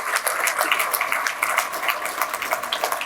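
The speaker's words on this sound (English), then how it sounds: "let's give Cameron a round of applause and all of the staff members" An audience applauds for Cameron and the staff at an annual convention, steady dense clapping throughout, fairly loud and continuous with no speech over it.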